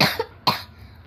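Two sharp coughs from one person, a quick first burst followed after a short pause by a second, close and clear in a quiet indoor setting.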